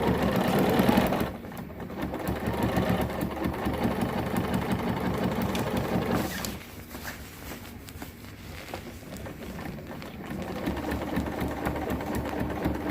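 Sewing machine stitching puffy down underquilt material, a steady close mechanical whir running continuously, slowing briefly and resuming at a slightly lower level, with no talking.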